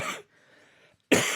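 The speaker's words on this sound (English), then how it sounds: "it's that smoke air cough" A single person's cough from breathing smoky air, two loud bursts at each end with a quiet gap between, close to the mic and alone.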